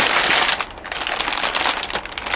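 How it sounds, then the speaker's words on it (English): A plastic bag crinkles and rustles steadily while being handled during the unboxing of a Neowing assembly kit, loud and close with continuous crackly bursts and no talking. "It's another plastic bag."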